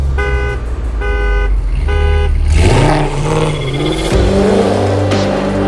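A Mercedes W211 E55 AMG gives three short repeated electronic chimes. Then the engine fires up close by and revs hard, its pitch rising and falling through several throttle blips.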